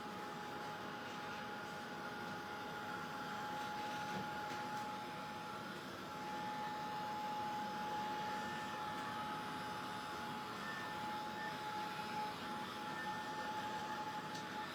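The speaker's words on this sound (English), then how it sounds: "I'm going to dry this off very quickly." A drying tool blows a steady, continuous whir over a freshly worked art journal page, holding an even, moderately quiet hum throughout with no talking.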